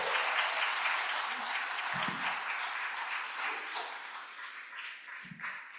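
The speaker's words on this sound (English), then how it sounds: "Give them one more round of applause." A church congregation applauds the Bridgers, with sustained clapping from a crowd filling the room, loud and continuous, easing slightly toward the end.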